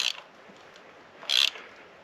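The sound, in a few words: ratchet tightening spark plug on Mitsubishi Outlander Sport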